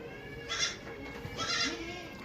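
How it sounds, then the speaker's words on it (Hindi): Kamori breed goats at a livestock market bleating twice, two loud nasal calls about a second apart, close by and over a low background hum. "मेरे पास ये 4 बकरे हैं कमोरी नस्ल के"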